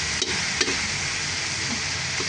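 Shrimp paste (alamang) sautéed with pork fat sizzles steadily in a pan, with a few soft scrapes of a spoon stirring it and no voices.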